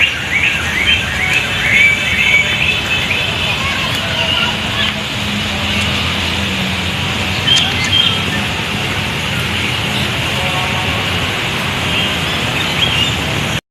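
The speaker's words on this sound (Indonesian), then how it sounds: "sebelah sana juga terdapat beberapa burung" Birds call and chirp in the Taman Flora park, a continuous mix of high twittering over a broad background hiss of outdoor ambience.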